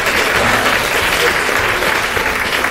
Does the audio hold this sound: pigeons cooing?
no